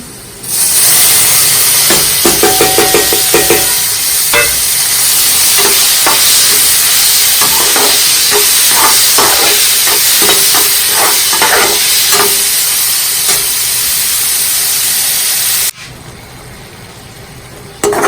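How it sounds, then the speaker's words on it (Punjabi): Green chillies and tomatoes sizzle loudly in frying masala for a Maggi recipe, with a constant close hiss and crackle, scattered clinks of stirring, and a sudden drop near the end. "ਮਸਾਲਾ ਆਪਣਾ ਥੋੜਾ ਬਰਾਊਨ ਹੋ ਗਿਆ ਹੁਣ ਹਰੀ ਮਿਰਚ ਟਮਾਟਰ ਪਾ ਦਾਂਗੇ"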